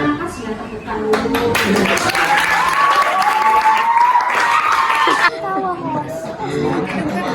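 Applause from a small group welcoming podcast guests, a burst of clapping lasting about four seconds, mixed with chatter and talk before and after.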